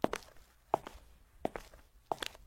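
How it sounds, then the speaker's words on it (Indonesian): Footsteps of an adult in thick-soled shoes, four heavy, evenly spaced steps with a slight scuffing after each, close and distinct against a quiet background. "Suara langkah kaki orang dewasa memakai sepatu bersol tebal."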